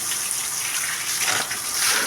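Ice-cold water pours and splashes over cattle being bathed, a steady close gushing rush with slight surges toward the end.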